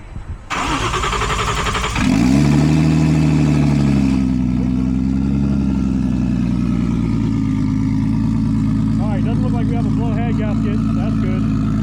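A Nissan G35 fitted with a swapped 1JZ engine cranks and fires after a short starter whir, then settles into a steady, loud idle that runs on alone with no talk.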